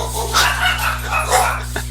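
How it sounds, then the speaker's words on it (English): Several pet dogs bark and yip indoors in short repeated bursts, loud and close, over a steady low electrical hum, with a brief whimpering note among the barks. "my dogs are barking"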